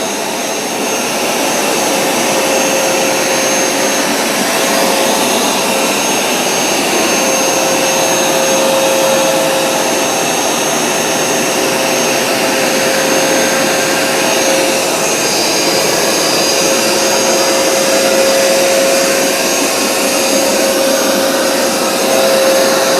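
Bissell CrossWave wet vacuum cleaning spilled grape juice, a loud, steady whining motor drone with a constant tone running throughout, no voices.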